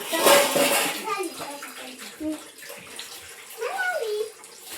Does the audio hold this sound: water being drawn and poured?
yes